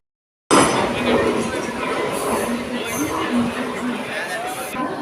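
A train pulling into Belapur station, a broad rumbling roar with a low steady hum running throughout, close and loud, with platform chatter and voices mixed underneath.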